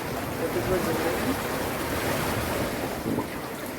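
Wind and breaking waves at sea aboard a sailboat crossing the Pacific, a steady broadband roar with microphone wind buffeting throughout and no clear individual wave crashes.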